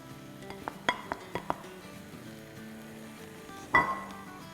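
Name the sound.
meat pieces (malai boti) being added to a biryani pot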